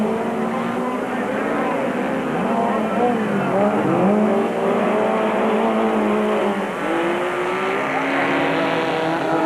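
A Toyota Hilux and a Ford rally car race on an uphill course with corners. The Ford has a 3-litre four-cylinder engine and the Toyota a 2.8-litre V6. Their engines rise and fall steadily as they rev and shift through the stages.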